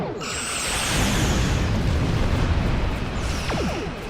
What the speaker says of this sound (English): Overload those phasers. Fire! Fire torpedoes.